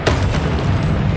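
A Confringo blast spell explodes in Hogwarts Legacy, a deep rumbling boom that holds steady and loud through the whole short burst, with no voices over it.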